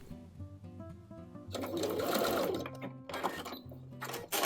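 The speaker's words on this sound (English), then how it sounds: "if you include the elastic, make sure that you secure it at both openings with a stitch" A sewing machine stitches elastic into an apron pocket, running in a steady, close, continuous whir for the second half after a quieter, tonal opening.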